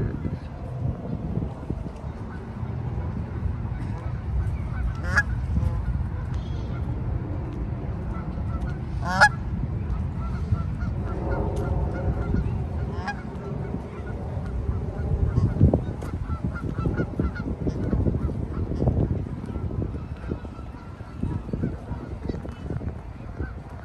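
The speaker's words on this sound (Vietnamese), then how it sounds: "Vịt nó ngồi đắp trứng nè." Brooding ducks sitting on eggs call in repeated honking, quacking bursts over a steady outdoor rumble of wind and background noise, with some faint talk in the mix.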